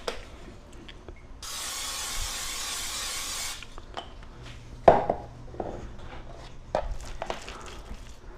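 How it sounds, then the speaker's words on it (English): Olive oil cooking spray hisses from a can into a heated stovetop frying pan in one steady burst of about two seconds. Light clinks and kitchen handling noises follow. "Just going to do some olive oil cooking spray."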